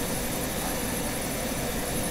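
Continuous helicopter rotor and engine drone from a Granny Ice Scream mod video game, steady and fairly loud throughout with no talking.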